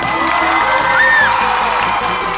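A crowd at a fan meetup in Collestrada, Perugia, breaks into cheering and applause, a loud sustained roar with whoops and shouts layered over the clapping.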